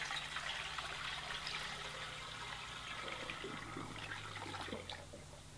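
Water poured from a one-litre yogurt tub into a rocket stove hot water system during a leak test, a steady splashing trickle that runs for several seconds and then tapers off, fairly quiet and close.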